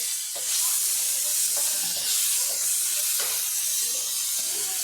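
Onions, tomatoes and coriander sauté in a pan with a bright, steady hiss of sizzling, broken by a few soft stirring scrapes; close and continuous, with no talking.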